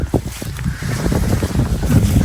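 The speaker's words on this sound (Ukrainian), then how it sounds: "Знову вітер." Gusty wind buffets the microphone with a rough, rumbling roar that swells and stays steady throughout in an autumn forest in the Carpathians, no voices present.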